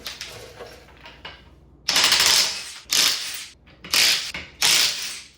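Cordless DeWalt impact wrench fitted with a 19 mm Harbor Freight socket hammers loose bolts on a 2025 Subaru Crosstrek, firing several loud, rapid rattling bursts separated by short pauses.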